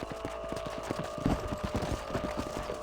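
Horse hooves clip-clop in a steady, rapid rhythm as a rider travels on horseback in the Red Dead Redemption game, moderately close, with faint ambient music underneath.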